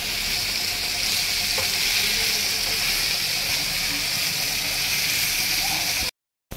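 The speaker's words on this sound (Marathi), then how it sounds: "एकदा दोनदा आपण पलटी करून मच्छी फ्राय करायची आहे" Tilapia fish fries in a pan of oil, giving a loud, even, bright sizzle that runs steadily and close for several seconds before cutting off abruptly.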